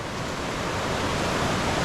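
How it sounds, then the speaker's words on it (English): High snowmelt water rushes steadily down toward the ocean, a dense, continuous roar of flowing water close by with no pauses or voices. "the water just flows down into the ocean"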